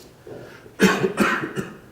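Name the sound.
coughing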